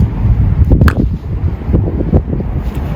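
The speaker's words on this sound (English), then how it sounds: "Little wind today." Gusty wind rumbles loudly across the microphone outdoors at a senior softball bat review, low buffeting with a few brief knocks and thin higher noises mixed in, no talk.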